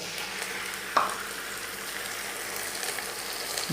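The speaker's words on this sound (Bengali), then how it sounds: "এখন একটু এগুলো ভালো করে নাড়িয়ে চাড়িয়ে দেব।" Onion paste and whole spices such as cinnamon sizzle steadily in a pan for a Bengali chicken curry with papaya, with one sharp clink of a spoon near the start and a constant close frying hiss.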